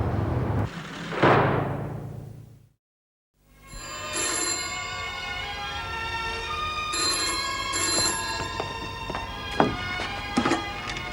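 A telephone rings repeatedly indoors, its bright electronic trills pulsing in regular bursts for several seconds after a brief silent gap and some louder knocks at the start.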